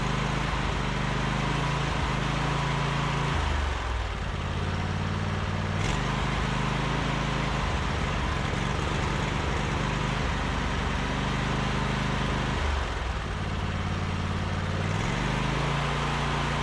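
A Briggs & Stratton V-twin engine with a freshly replaced cam runs loudly and steadily while the throttle and choke are adjusted, its pitch and roar dropping and rising in several clear shifts over the run.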